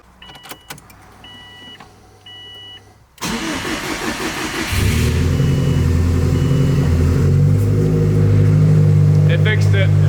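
After a few quiet clicks, a Subaru engine cranks and catches, revs briefly, then settles into a steady, even idle close by, after a fault with an unplugged coolant temperature sensor was fixed.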